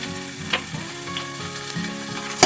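Mutton trotters land in about half a cup of hot oil and sizzle, a steady frying hiss broken by a few sharper crackles and a loud spatter right at the end, with no voices.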